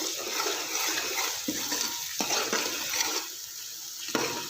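Onions sizzle in hot oil for a Peshawari siri paye gravy as ginger garlic paste goes in, a steady close frying hiss broken by a few sharper stirring scrapes and clacks.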